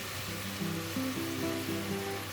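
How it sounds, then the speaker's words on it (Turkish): Onions sautéing in a pan for a chicken pot pie tart, giving off a steady soft sizzling hiss beneath light background music. "Şöyle bunları yaklaşık bir 7-8 dakika kadar soteliyoruz."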